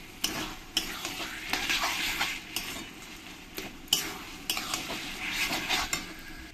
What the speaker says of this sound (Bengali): আর এর মধ্যে দিয়ে দেবো আদা রসুন পেস্ট। দিয়ে ভালো করে আমি পেঁয়াজের সঙ্গে কষিয়ে নেব।